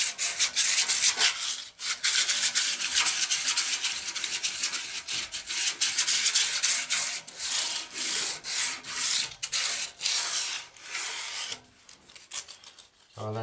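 Sandpaper rubbed by hand over the fins of a painted radiator, a continuous loud abrasive scratching in quick back-and-forth strokes with brief pauses, close up and alone.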